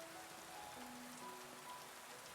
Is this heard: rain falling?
yes